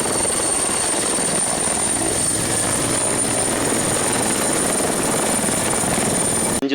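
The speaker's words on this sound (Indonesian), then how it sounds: "Di sini kakak dapat mainan, sebuah mainan pesawat helikopter." A toy helicopter gives off a steady, loud mechanical whir that holds unchanged for nearly seven seconds and cuts off abruptly at the end, with no voices.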